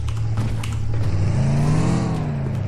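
A car in the PUBG Mobile game drives off and revs up, its engine pitch climbing steadily and loud and close over a short stretch.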